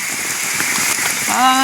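Heavy rain hisses steadily over a forest campsite at night, a dense close wash of drops, with a brief tonal squeak or call rising near the end.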